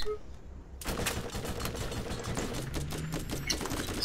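Rapid automatic gunfire from a high-recoil weapon in the Borderlands video game, a dense stream of loud cracks and clatter that starts abruptly and keeps rattling, with shell and mechanical tinkles mixed in.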